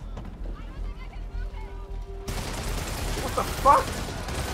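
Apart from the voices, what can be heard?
gunfire in the video game Spider-Man (PS4)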